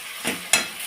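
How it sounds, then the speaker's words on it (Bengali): Spice paste for a rohu fish curry stir-fried in a pan, two short bursts of scraping and sizzling about a quarter second apart over a soft steady hiss, close and moderately loud. "মশলাটা ভালোভাবে কষিয়ে নেব।"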